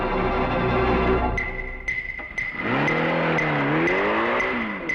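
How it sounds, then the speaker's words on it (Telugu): A car races off with a rising engine rev and tire noise, loud and close, sweeping upward in pitch as it speeds away in an action film scene. "చైన్యని కారు దూసుకుపోయిన శబ్దం వినబడుతుంది"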